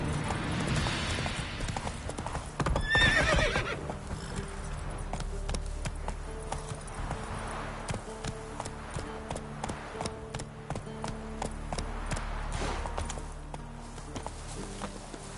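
Horse hooves clip-clop at a steady, fast rhythm in The Witcher 3, fairly faint, over a low game backdrop, with a brief louder burst early on.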